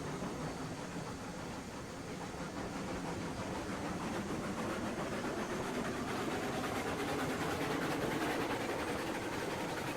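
A train rolls steadily along the track in the Railroads Online video game, a continuous low mechanical rumble with faint rail clatter. It stays even and moderately quiet throughout, with no voices.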